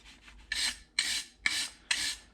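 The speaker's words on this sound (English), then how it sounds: "This is a brand new wire brush." A brand new wire brush scrubs steel already prepped for welding, giving four loud, harsh rasping strokes at an even rhythm, each about half a second long, up close with no talk.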